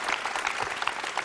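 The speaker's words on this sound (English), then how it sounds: "That gets a round of applause in itself." A crowd gives a brief, lively round of applause, dense overlapping hand claps at steady loudness filling the whole moment.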